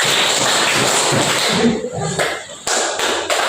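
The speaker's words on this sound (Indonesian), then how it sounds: "tepuk tangan 1, tepuk 2, tepuk 3, tepuk 4" Group hand clapping in a classroom exercise, a loud dense wash of many clapping hands that thins out into a few sharp separate claps.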